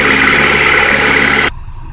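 A Honda CR-V engine held at about 2,500 RPM gives a steady, loud revving hum that cuts off abruptly partway through, leaving a low residual rumble.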